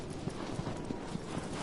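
Horse hooves galloping in the Shadow of the Colossus video game, a steady rhythmic clip-clop of repeated hoofbeats at moderate volume with no talk over it.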